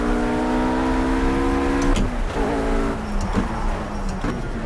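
A RUF RGT 8 sports car in Project CARS on the Nordschleife downshifts into second gear: a steady, close engine drone whose pitch drops sharply in steps with each gear change, then settles into a lower rumble.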